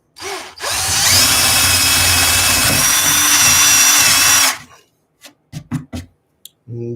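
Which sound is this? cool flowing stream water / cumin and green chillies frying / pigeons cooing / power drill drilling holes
power drill drilling holes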